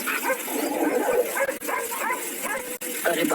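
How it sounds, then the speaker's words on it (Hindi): Several village dogs bark and yip at a bicycle in a continuous excited chorus, fairly close and noisy throughout. "कुछ कुत्ते राजेश की साइकिल को देखकर भौंकने लगते हैं"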